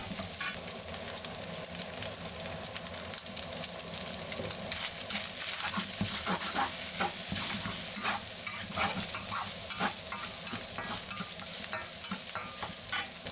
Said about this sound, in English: heat oil and add in ground meat and keep stirring